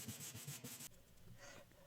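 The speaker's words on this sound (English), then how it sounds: "this smaller hand sanding block is very useful" A small hand sanding block rubs back and forth over a wooden mid-century dresser in quick, close, scratchy strokes, then briefly softens to a quieter rasp.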